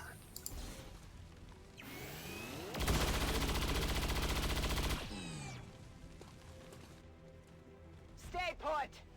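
Suppressing fire in XCOM 2, a sustained burst of automatic gunfire roaring for a couple of seconds mid-clip amid other game effects and whooshes, with someone talking over much of it.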